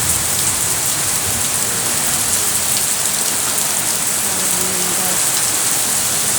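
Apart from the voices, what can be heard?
strong wind and rain storm outdoors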